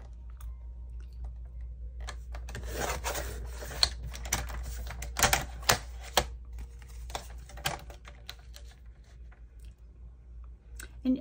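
Paper edges being trimmed with a cutter while crafting faux envelope pockets: a run of close, sharp clicks and scraping slices over a low steady hum, bunched in the middle and thinning toward the end.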